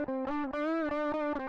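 Electric guitar played through a Bogner Burnley Classic distortion pedal set to lower gain, a sustained, slightly gritty chord tone ringing steadily with brief re-picked attacks, close and alone.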